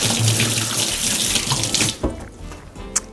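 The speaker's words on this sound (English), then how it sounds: "Let me just wash my hands." Kitchen sink tap runs steadily at full flow while hands are washed, a loud close rushing splash that cuts off after about two seconds, leaving a few faint drips and clinks.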